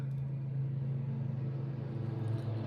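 A riding lawn mower runs outside with a steady, droning engine hum at an even pitch that holds unbroken throughout, moderately loud and with no voices.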